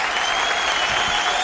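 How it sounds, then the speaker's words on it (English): A big round of applause on a Zoom show, a dense, steady wash of clapping that fills the whole moment without any speech. "That's a big round of applause"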